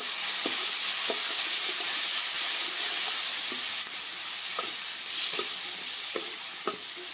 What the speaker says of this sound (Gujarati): લાલ મરચું, હળદર તેને પણ આપણે મિક્સ કરી લઈશું.